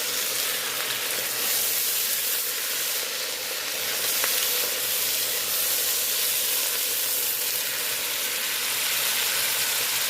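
Mustard greens fry in pork grease in a home kitchen, giving a loud, continuous close-up sizzle with steady hissing crackle throughout and no talking.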